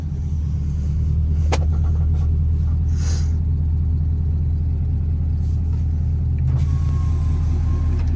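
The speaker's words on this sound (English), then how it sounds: "This thing just idling. I don't know if you can hear it." A SEMA show truck's engine idles steadily up close, a deep continuous low rumble that holds through the stretch with a few faint higher clicks and noises over it.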